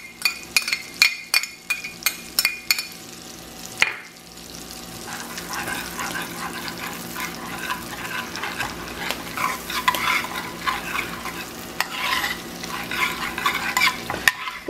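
Red pepper fries in melted butter. It opens with a rapid series of metallic utensil taps against the pot, then settles into a steady crackling sizzle with stirring scrapes, and no voices.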